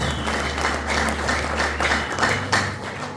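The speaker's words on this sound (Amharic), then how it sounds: "ወጣቱ ጭብጨባ እየሰራ" A crowd of young people at a church ordination ceremony breaks into applause, a dense, lively clapping that swells in bursts and carries on steadily.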